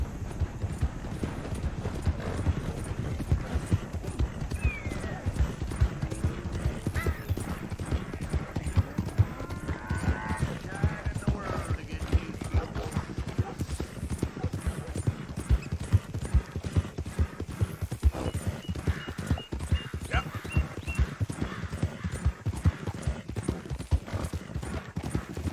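A horse gallops at full speed during a race in Red Dead Redemption 2, with steady rapid hoofbeats that run continuously and stay close and loud throughout.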